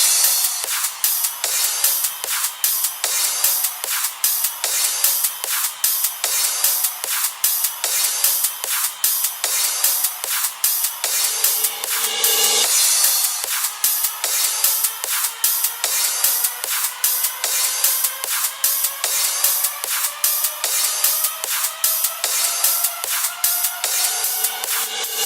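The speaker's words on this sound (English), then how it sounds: "Then the next section here we have is all the cymbals and kind of background effects" Soloed cymbals and background effects from a Riddim track: steady, rapid bright hi-hat and cymbal ticks run throughout, with a brief swell in the middle and a slowly rising tonal sweep layered underneath.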